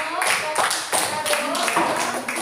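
Classroom applause for a student group after a discussion presentation, a burst of hand clapping from many people lasting a couple of seconds and fairly close.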